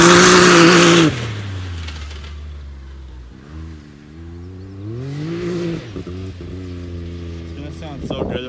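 A Can-Am Maverick X3 off-road vehicle revs hard and loudly, then its engine note drops and rises again in a wavering pull as it drives over a jump, with brief bursts of acceleration near the end.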